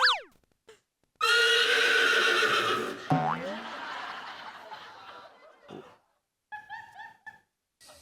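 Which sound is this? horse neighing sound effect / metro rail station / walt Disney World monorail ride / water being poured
horse neighing sound effect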